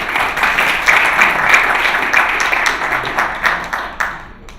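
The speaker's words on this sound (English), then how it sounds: "So I think a round of applause to the panelists for that." An audience at a FinTech panel discussion applauds the panelists, a loud, dense round of clapping from many people that holds steady and then thins out and fades over the last second.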